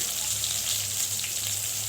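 Vegetables sizzling steadily in a pan of hot oil just after katla fish has been fried, a continuous bright hiss with a low hum underneath, close and even throughout.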